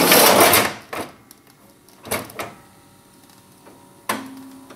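A Konica Minolta Variolink 2822 C multifunction printer at work: a burst of loud mechanical whirring, then a series of clunks and clicks with a short rising motor tone near the end, no speech.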